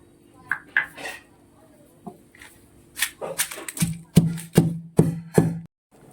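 Scattered clinks and taps give way to a run of firm, evenly spaced thuds of onion and chili with salt being pounded on stone, close by.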